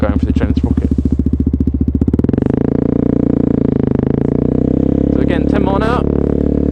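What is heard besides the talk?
125cc motorcycle engine revving during a wheelie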